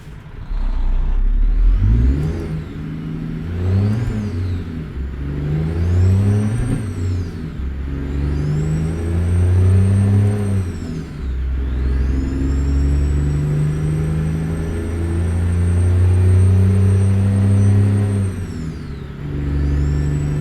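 Deep rumble of a Detroit 14-litre engine in a Freightliner Argosy truck in American Truck Simulator, loud and close, rising and falling through repeated gear pulls with sweeping pitch climbs and brief drops between shifts.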